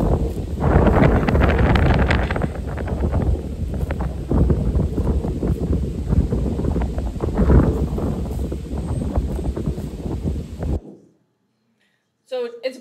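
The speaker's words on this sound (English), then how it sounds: "So it's windy, that's why the noise is there." Strong wind buffeting an outdoor microphone near horses gives a loud, continuous rumbling roar for about eleven seconds, then breaks off into near silence with a brief faint sound at the end.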